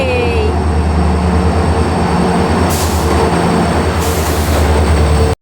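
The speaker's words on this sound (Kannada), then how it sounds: "ನೋಡಿ, ಟ್ರೈನ್ ಬಂತು." A train arriving at a station: a loud, continuous rumble of rolling wagons with a brief squeal at the start and hissy bursts partway through.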